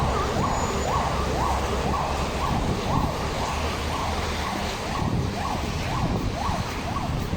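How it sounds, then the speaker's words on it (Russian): An ambulance siren wails up and down repeatedly, somewhat distant and partly buried under heavy rumbling traffic noise in central Yakutsk. "Опять скорая."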